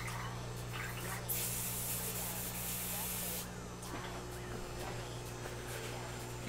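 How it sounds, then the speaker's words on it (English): Water sprays steadily for about two seconds while a pot is rinsed out after cleaning off solvent, then drops away, leaving a constant low electrical hum and faint handling noises underneath. "rinse out the pot."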